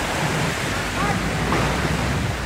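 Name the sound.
strong wind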